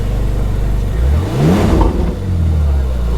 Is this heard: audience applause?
no